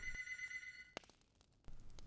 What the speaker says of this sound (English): Theodora and Sebastian jump at the ringing